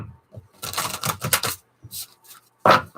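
Tarot cards being shuffled, a run of quick papery riffling bursts close up, pausing briefly before a final louder flurry of card shuffling, with no talking.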